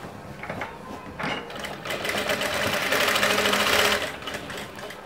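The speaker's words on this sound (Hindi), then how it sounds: "अब हम एक सिलाई यहाँ पर लगा लेंगे।" Sewing machine running steadily while stitching a neckline seam on a princess-cut padded blouse, a continuous close mechanical whir that grows slightly louder toward the end with no talking.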